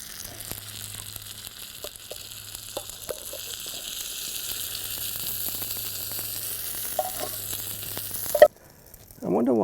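Vegetables with eggplant sizzle steadily in a pan of coconut milk at a camp stove, a continuous close frying hiss with occasional stirring scrapes, cut off abruptly near the end.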